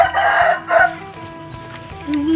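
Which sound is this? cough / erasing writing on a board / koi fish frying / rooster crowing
rooster crowing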